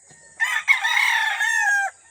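A single rooster on a chicken farm crows loudly and close by, one long drawn-out call lasting over a second, with quiet surroundings before and after.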